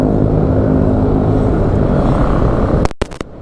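A motorcycle engine idles steadily at about 1,500 RPM after an idle fault was fixed, a low continuous rumble heard close up, ending in a few abrupt clicks and bumps.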